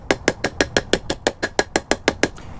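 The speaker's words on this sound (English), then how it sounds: "Just take a ball peen hammer and start tapping it in" A ball peen hammer tapping a seal into the axle housing of a first-generation Toyota 4Runner solid front axle: about fourteen crisp, evenly paced metallic taps, close and steady, with no talk.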